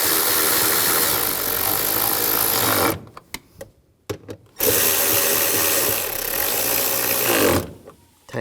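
A power tool rattles hard while tightening bolts on a 2011-2019 Ford Explorer transmission mount, two loud sustained bursts of buzzing with a short break of clicks between them, close and with no talking.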